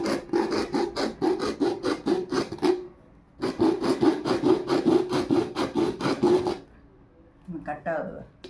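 An old silver-colored steel hot box container is being cut with quick, rhythmic, scraping strokes. A first burst of strokes is followed by a short pause, then a second steady run, and a brief rougher scrape comes near the end.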